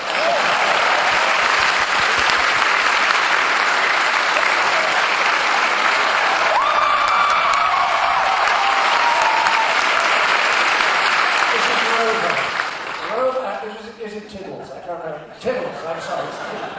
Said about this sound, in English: a round of applause for my assistant